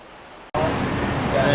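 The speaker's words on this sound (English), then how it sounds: "You can hear the rain. It is freaking unreal." Heavy rain pours down in a steady, loud broadband wash that bursts in suddenly after a quieter start and continues unbroken.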